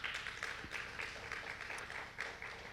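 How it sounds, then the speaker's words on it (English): An audience gives a round of applause to the evening's speakers at a South Carolina homeschool information meeting, steady clapping that is faint and somewhat distant and lasts the whole short moment. "I'd like to give another round of applause, if you will, to our speakers because they did an excellent job tonight"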